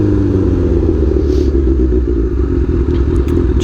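A Kawasaki Ninja H2 motorcycle is ridden in cold winter weather, its engine a loud, steady, close drone with a rumbling low end and wind rush throughout, with no talking.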